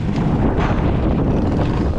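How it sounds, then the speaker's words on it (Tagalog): Strong wind roars across the microphone outdoors, a loud, dense, continuous buffeting with no break. "Ay, lakas ng hangin."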